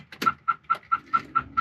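An aftermarket alarm fitted to a car brought over from Norway to Australia chirps seven times in a quick, evenly spaced series of short, bright tones, near and clear with no talking.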